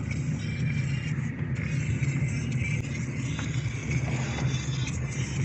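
Car driving along a winding road at dawn near the sea, a steady low engine and road hum inside the cabin with faint rattles and scrapes, continuous throughout.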